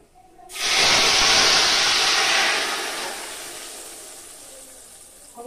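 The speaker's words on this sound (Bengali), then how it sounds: "এই দেখুন এবার আমি এই মাছের এই ঝোলটা দিয়ে" Fish curry broth for a tangra fish dish hits hot oil tempered with nigella seeds, erupting into a loud, broad hiss of sizzling steam that slowly fades to a steady simmering fizz, with no talking.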